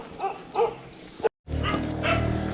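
Dogs along a dry riverbed in the Thai jungle bark in a few sharp, moderately distant yelps and whimpers, followed after a brief gap by a busier outdoor wash of barking and ambient noise.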